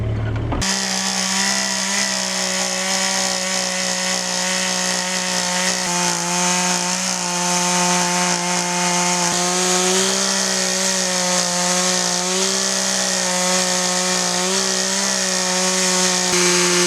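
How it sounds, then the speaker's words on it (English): Chainsaw mill cuts lengthwise through a log, engine droning steadily and loudly at high revs throughout, with a slight wavering in pitch as the bar works through the wood. "we'll show you what this chainsaw mill is like"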